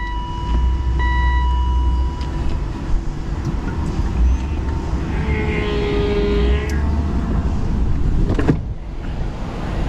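The electric convertible top motor of a 1998 BMW Z3 strains as it raises the top, a steady close hydraulic hum with a rising whine in the middle and a clunk near the end, no talk.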